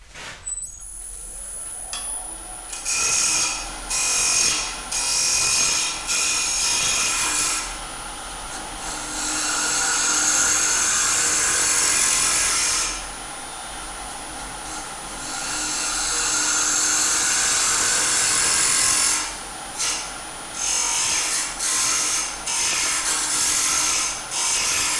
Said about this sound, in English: I might use the carbide, the negative rake box scraper, the round one, just to tidy all those little bumps up